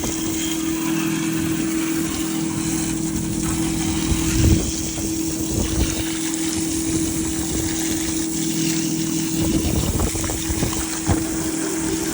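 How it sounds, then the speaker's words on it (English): A water hose rinses an AC condenser coil outside a building during a heatwave, a steady loud spray and gush with a constant mechanical hum underneath and occasional splashing bursts. "we're just gonna rinse off the coil, clean out that drain, clean out the unit as best we can from that gunk"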